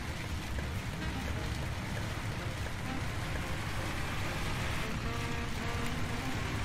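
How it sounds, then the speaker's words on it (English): Steady heavy rain pours down in a bus driving simulator game, a dense, even hiss filling the scene without pause, with a low vehicle rumble underneath. "That rain's coming down good."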